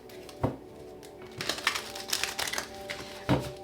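A final shuffle of a tarot deck, close-up card slaps and quick riffling bursts over a few seconds, moderately quiet with a faint background hum and no voices.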